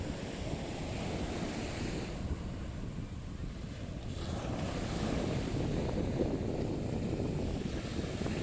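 Ocean surf rolling onto the Aurora coast at a surfing spot near Baler's north shore, a continuous roar of breaking waves with wind rushing across the microphone and no talking.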